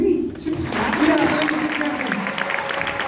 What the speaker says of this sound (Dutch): Applaus voor jullie.